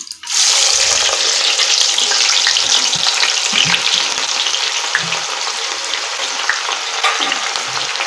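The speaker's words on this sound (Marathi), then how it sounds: "हा राहिलेला कांदा आहे तो तळून घ्यायचा आहे" Sliced onion for veg biryani fries in a pan over low flame, a loud, continuous close-up sizzle with occasional soft scraping and stirring knocks throughout.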